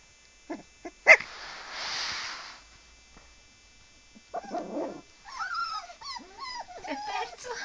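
Puppy from an animated film scene whimpering and crying as if lost, thin high wavering cries coming in several short bursts after a brief quiet stretch, fairly close and moderately loud.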